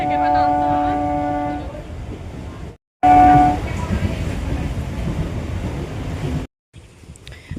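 A train pulling in on a rainy day, carrying a loud rumbling roar with a sustained horn-like tone near the start, a brief cut, then the rumble again with another short tone fading into steady rolling noise.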